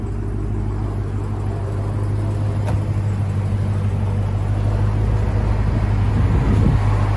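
A Dodge Challenger Hellcat with a supercharged 6.2L Hemi V8 and Carven exhaust idles nearby, putting out a steady, deep, loud rumble that holds even throughout with no one talking.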